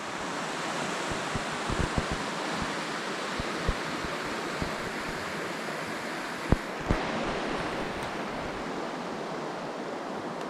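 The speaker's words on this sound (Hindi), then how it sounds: "ये देखिए छोटा सा झरना, कैसी खूबसूरती है यहाँ पे।" A small mountain waterfall pours clear water in a steady, even rush, close and continuous, with a few faint knocks and bumps breaking through.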